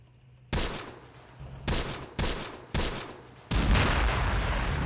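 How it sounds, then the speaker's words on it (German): Units open fire in the World War II game Close Combat: The Bloody First during a night attack, five loud, sharp gunshot bursts cracking out at steady intervals, each trailing off briefly, before sustained rattling fire takes over at the end. "Schießen sie auch tatsächlich mal."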